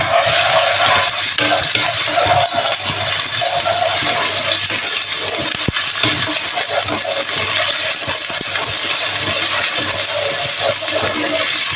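Onion and chopped garlic sautéing in a frying pan, giving a loud, steady sizzle close up with occasional stirring scrapes, and no one talking.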